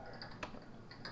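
Light keystrokes on a computer keyboard, a few soft quick taps, very faint and close, with no talk.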